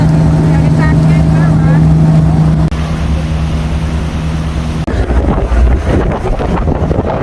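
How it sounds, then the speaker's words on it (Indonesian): A boat heading across choppy sea toward Anak Krakatau runs with a loud motor drone and rushing wind and water. The engine tone shifts partway through and the wash grows rougher near the end. "Ini kondisi ombaknya ketika kami menuju ke anak Krakatau."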